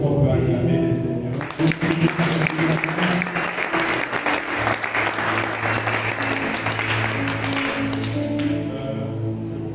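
A church congregation bursts into sustained applause and cheering to acclaim the Lord during a service, with music playing underneath as the clapping swells and then fades.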